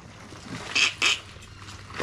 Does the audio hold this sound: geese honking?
yes